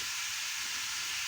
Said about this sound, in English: There, can you hear that? Those are the cicadas.